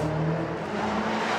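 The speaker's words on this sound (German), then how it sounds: "sagt er und gibt Gas" A car accelerating as the driver hits the gas, in Tajikistan: a fairly quiet engine rising in pitch and pulling away, with road noise and no voices.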